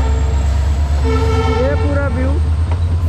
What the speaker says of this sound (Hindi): ये है रेलवे ट्रैक और दो ट्रेनें गुजर रही हैं